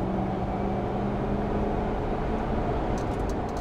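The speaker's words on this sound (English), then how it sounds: "very quiet, but she doesn't sound bad for a stock V8" A stock Lexus GX470 V8 idling quietly, a steady low exhaust rumble held evenly throughout with a few faint ticks near the end.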